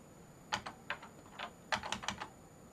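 Keystrokes on a modern computer keyboard with Windows keys: a few scattered clicks, then a quicker burst of taps, quiet and close with no talk.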